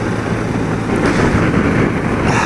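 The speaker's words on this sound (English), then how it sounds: "It's been windy for quite a few days now." Steady wind buffets the microphone while an old motorbike is ridden on a gusty day, a close, constant low roar with no talking.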